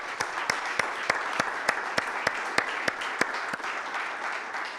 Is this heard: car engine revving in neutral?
no